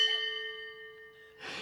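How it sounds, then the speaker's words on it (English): A single clean notification bell chime rings out with a bright, sustained tone that fades slowly before a brief soft rush of noise at the end. "ring the bell"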